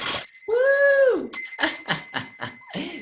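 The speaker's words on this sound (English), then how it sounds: "when we ring the bell" A bell rung in an art studio during a live painting class gives a clear ringing tone with lingering harmonics, followed by lively voices.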